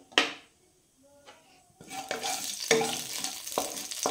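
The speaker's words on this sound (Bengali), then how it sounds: "এর মধ্যে দিয়ে দিলাম কালো জিরে একটু ভাজা ভাজা হয়ে গেলে" Black cumin seeds added to hot mustard oil sizzle in a pan, starting with a sharp clink, then a rising close crackle with stirring scrapes.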